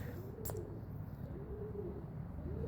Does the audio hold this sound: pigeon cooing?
yes